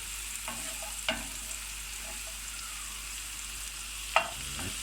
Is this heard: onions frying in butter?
yes